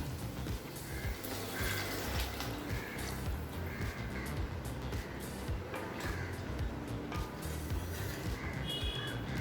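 Water, 2.5 cups of it, pours into a pan of cooked vegetables for rava kichadi, a continuous splashing flow held at a steady level for several seconds.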